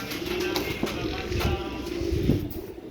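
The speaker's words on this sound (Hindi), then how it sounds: "बहुत अच्छे कबूतर है" Pigeons coo softly and repeatedly over a steady background hum, with low murmuring sounds throughout.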